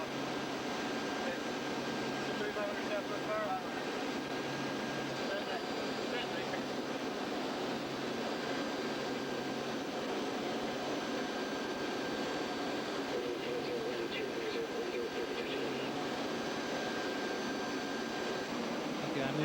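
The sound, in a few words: P-3 aircraft in flight, cabin noise during landing pattern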